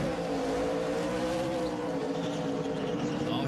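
A NASCAR race car at the 2007 Stater Brothers 300 spins out, its engine a loud sustained roar with layered harmonic whine and crowd-and-track wash underneath, continuous for the whole stretch.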